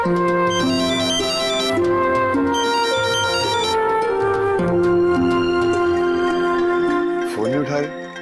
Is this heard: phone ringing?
yes